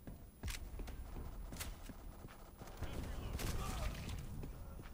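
An HK121 machine gun fires in long continuous bursts in the online shooter Black Squad, with sharp, rapid cracks that grow louder toward the end.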